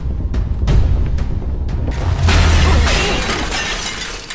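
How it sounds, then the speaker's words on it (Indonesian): A glass table shatters during a martial-arts fight scene in an Ip Man film, a heavy crash with a rumbling boom, followed by a dense spray of breaking shards under dramatic film sound. "mereka beradu tenaga dalam dan memecahkan meja kacanya"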